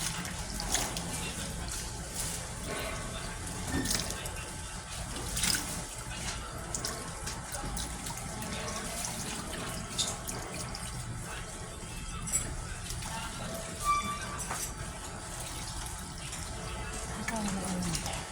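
Hot water runs steadily from a tap throughout, a continuous close splashing wash with a few louder surges, under a little background noise.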